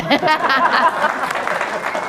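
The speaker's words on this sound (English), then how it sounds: "somebody was clapping, let's go." Audience applause at a keynote event, a burst of clapping from a crowd that rises quickly and then thins out, with voices and a few chuckles mixed in.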